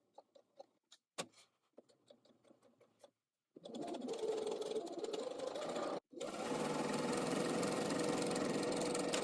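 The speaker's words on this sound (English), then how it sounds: "And I'm sewing with a straight stitch." A sewing machine stitches a straight seam on a long curved garment seam, starting after scattered clicks and handling noises, then running loud and steady with one brief pause before resuming.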